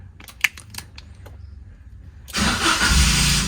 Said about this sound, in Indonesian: maka akan menghidupkan mesin ya